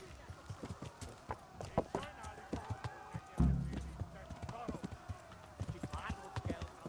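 Rapid, regular hoofbeats of a galloping horse in the video game Kingdom Come: Deliverance clatter steadily, with scattered game sound effects around them.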